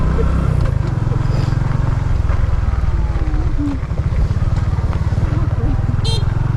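A motorcycle climbs a mountain road toward a peak in Siruma, Camarines Sur, its engine droning loud and close without a break, while a person talks briefly over it.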